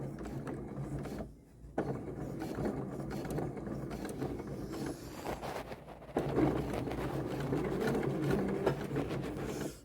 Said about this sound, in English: I'm stitching one more stitch right on the very edge of this.